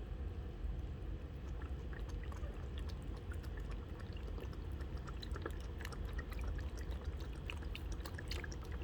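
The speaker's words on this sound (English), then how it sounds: "I got some beef broth. So I'm going to pour this" Beef broth poured from a container into a slow cooker for a pot roast, a steady, continuous splashing stream that holds at an even level from start to finish.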